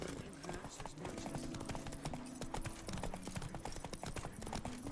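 Horse hooves clip-clop rapidly in The Witcher video game, a steady galloping beat under a continuous wash of game ambience and music.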